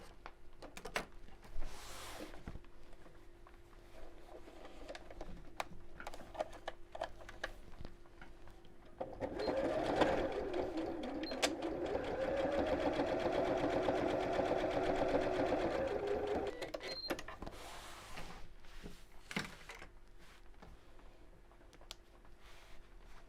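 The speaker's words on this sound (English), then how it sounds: "I'm going to top stitch from the flap just all the way around here" A sewing machine top stitches around the flap of a fabric clutch bag, running steadily for about seven seconds in the middle, with quieter handling and faint ticks before and after.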